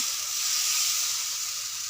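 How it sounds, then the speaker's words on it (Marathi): Fermented batter spread across a hot tava gives a loud, steady sizzle that hisses continuously and close up, with no voices. "आता आपण ते तव्यावर छान असं पसरून घेऊया"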